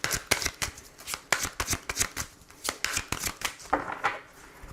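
Oracle cards shuffled by hand during a French love reading, a rapid run of crisp riffling snaps and slaps repeating in quick bursts, close and moderately quiet with no talking.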